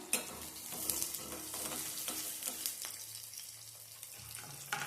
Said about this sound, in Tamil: எல்லாமே நல்லா எண்ணெயிலேயே வதங்கி வரணும்